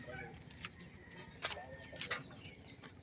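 Pigeons coo and call softly in Calbayog, Samar, with a few faint bird calls rising over quiet outdoor background.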